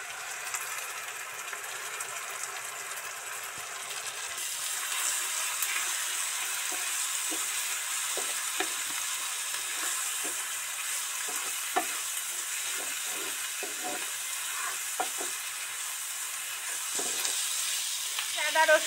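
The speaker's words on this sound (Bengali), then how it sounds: "আদা রসুন একদম সুন্দর করে তেল ছেড়ে গেছিল, এবার এই হলুদ লঙ্কা দিয়েছি, বেশি ভাজতে লাগবে না" Ginger-garlic paste with turmeric and chili fries in oil for a duck egg curry, a steady close sizzle and hiss punctuated by light scraping and tapping as it is stirred.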